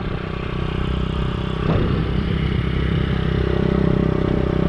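A 50cc supermoto motorcycle cruising through a parking lot, its small engine buzzing steadily with a brief rev partway through, close and continuous, no talking.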